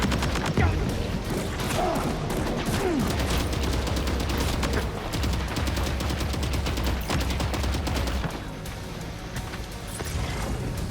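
Assault rifle fire in the video game Death Stranding 2, rapid bursts and sustained automatic volleys crackling over game effects, with a player talking over it.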